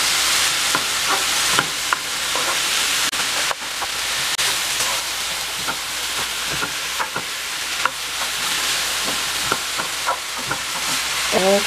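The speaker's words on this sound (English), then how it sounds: "I'm going to let that simmer down a little bit" Cauliflower fried rice sizzles steadily in a hot pan, with a continuous frying hiss and repeated scraping clicks of stirring throughout.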